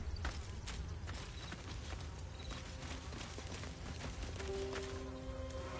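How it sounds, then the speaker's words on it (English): Heavy owlbear footsteps in the video game Baldur's Gate 3 thud faintly under a dense, rumbling ambient background, as a slow plodding tread that never stands out clearly. "You feel the quake of its heavy footsteps before you see it."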